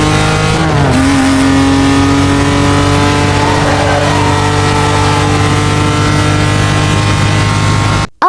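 A BMW E46 fitted with the Super Pro engine upgrade in Need for Speed Most Wanted runs loud and continuous, its pitch jumping after the first second and then holding at a steady hum to the end.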